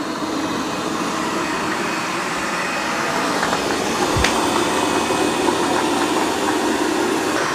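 A robot vacuum cleaner runs over carpet with its mop pads raised, giving a loud, continuous whirring drone with a broad rushing hiss. The sound stays even throughout, with one faint thump partway through.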